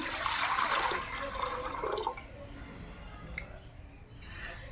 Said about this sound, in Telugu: ఈ కుండలోకి అయితే నీళ్ళు పోసుకుంటున్నాను